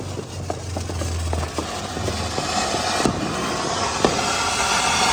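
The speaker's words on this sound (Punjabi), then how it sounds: "ਹਰ ਤਰਫ ਪਟਾਕਿਆਂ ਦੀ ਆਵਾਜ਼ ਆ ਰਹੀ ਹੈ" Diwali firecrackers burst across Hoshiarpur city, sharp cracks and pops scattered at a distance over a dense, constant roar of crowd and traffic noise, with a low engine drone early on.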